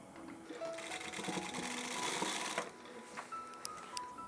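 Sewing machine stitching the shoulder joint of a model blouse, a fast mechanical whirring run of about two seconds that stops, followed by a few quieter clicks.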